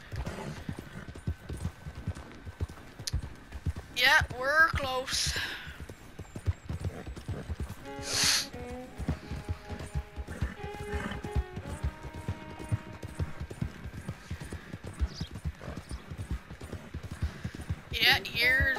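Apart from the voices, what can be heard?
horse Maverick galloping, hoofbeats, from video game Red Dead Redemption 2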